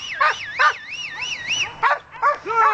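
Hunting dogs on a wild boar hunt near Veria bark and yip in quick, high-pitched bursts, some calls rising and falling like wavering howls, fairly close and loud with short gaps between.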